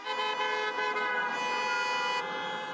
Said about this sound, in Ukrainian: Клаксони авто не змовкають.